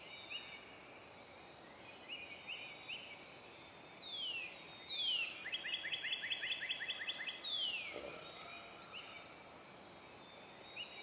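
Early morning birds chirping outdoors near woods, with a few bright repeated trills and rapid tweeting phrases rising over quiet rustling background, moderately distant and intermittent.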